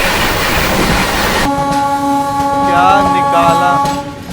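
The Shiv Ganga Superfast Express runs alongside the Avadh Express, starting with a loud rushing rumble that gives way to a sustained horn blast with wavering tones over the clatter of the rails.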